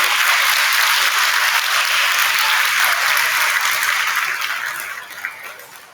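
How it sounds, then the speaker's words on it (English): Loud applause from a crowd at a fourth-grade school awards day, dense clapping that holds steady and then tapers off near the end. "Let's give him one more round of applause"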